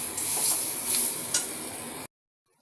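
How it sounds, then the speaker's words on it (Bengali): Potatoes fry with spices in a pan, a bright, steady sizzle with a few stirring scrapes, close and fairly loud, ending abruptly after about two seconds. "মশলার সঙ্গে আমি আলুটা দিয়ে ভাজা করে নিতেছি ভালোভাবে"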